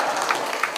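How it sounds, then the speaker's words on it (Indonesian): Audience applause at a reading event with Anies Baswedan, a brief, fairly soft spell of scattered clapping with a few sharper claps standing out. "Tepuk tangan yang meriah untuk Bapak Anies Rashid Baswedan yang telah membacakan kita sebuah cerita."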